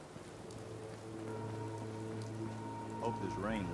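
Steady rain patters on a surface throughout in Fallout 4, with a low hum underneath and a voice speaking briefly near the end.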